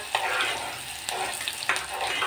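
Onion frying in hot oil for a brinjal and potato curry, a dense steady sizzle with several sharp scraping strokes of stirring, close and moderately loud with no talking.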